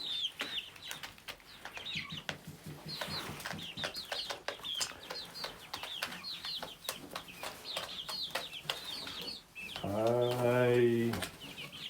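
Chickens in a coop, including small gray birds in the flock, cluck and chirp close by throughout, with scattered scratching and rustling; a person speaks partway through, and a louder sustained call rises near the end.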